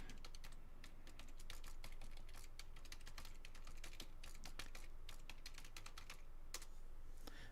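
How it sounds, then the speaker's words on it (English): Someone types steadily on a computer keyboard, a quick run of close, crisp key clicks in uneven bursts with no talk, quiet overall. "I'll type it out for you."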